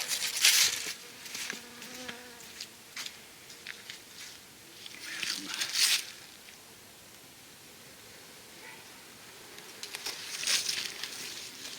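A steady swarm of honeybees at a hive with a top feeder in winter buzzing close by, droning continuously with occasional louder passes and faint rustling, no voices.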